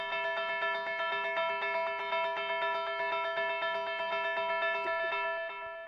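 Synthesizer arpeggio ticking through rapid, evenly spaced bell-like notes, a bright steady pattern with no voices, fading slightly at the end.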